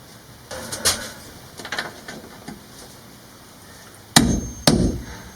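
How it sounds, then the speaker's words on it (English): Rivet nut (plus nut) being set in an RV panel during pantry installation: a few sharp metallic clacks and taps, with two loud close impacts near the end, no talk. "Then I'll put in the plus nut."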